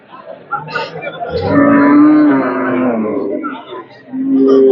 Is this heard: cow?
yes